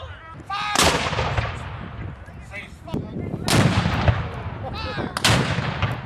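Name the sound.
cannon fire at Civil War battle reenactment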